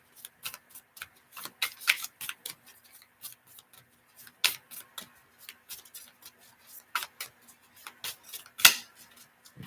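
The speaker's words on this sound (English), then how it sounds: "I'm shuffling now. I have to shuffle both decks." Two decks of oracle cards being shuffled, giving a close run of dry, uneven riffling taps and flicks at moderate loudness with short pauses between bursts.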